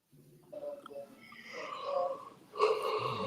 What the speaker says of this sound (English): Who's yawning?